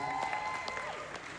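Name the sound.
wedding guests applauding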